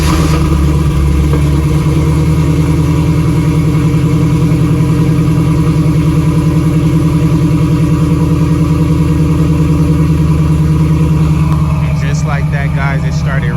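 Camaro engine running after a week of sitting, a loud, close, steady idle with a deep rumbling throb, a voice speaking briefly near the end.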